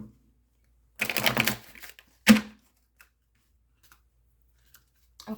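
Two short bursts of tarot cards riffling and snapping together, a longer one then a quick sharp one, followed by near silence with tiny ticks.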